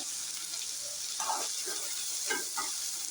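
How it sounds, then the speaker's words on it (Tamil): Onions drop into hot oil with popped mustard seeds, giving a faint sizzle with a few brief bursts of frying hiss and stirring, quiet and close. "கடுகு நல்லா பொரிஞ்சதும் 2 பெரிய சைஸ் வெங்காயம் சேர்த்துக்குங்க"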